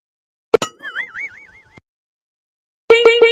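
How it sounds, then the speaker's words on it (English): A notification bell sound effect: two sharp clinks, then a wobbling tone that fades out, and after a short silence a bright ringing chime with repeated strikes, loud and alone. "ring that bell so you get notified when I post the video"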